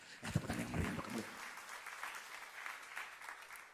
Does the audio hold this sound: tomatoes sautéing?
no